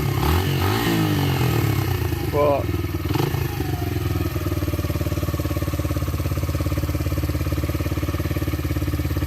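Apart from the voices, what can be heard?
Lexmoto Adrenaline 125 motorcycle engine running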